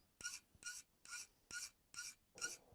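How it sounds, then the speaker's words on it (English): A fine file rasps across a workpiece edge, smoothing a small chamfer: six evenly spaced strokes, each a bright, gritty scrape with short pauses between, close and clear with no talking. "I'll take a little finer file here, just so it doesn't gouge our work"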